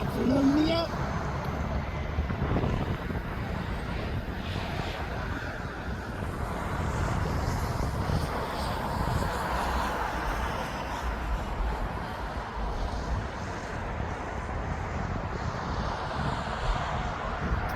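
DHL aircraft arriving at East Midlands Airport, a steady broad jet roar that holds throughout, mixed with wind noise on the microphone, moderately loud and continuous.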